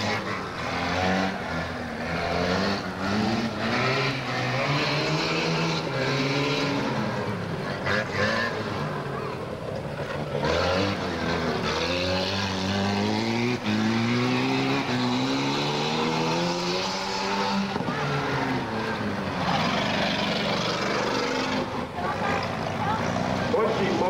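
Race car engines at a dirt track race drone continuously, pitches swooping up and down as cars accelerate and circle, with an announcer talking over the steady, busy roar.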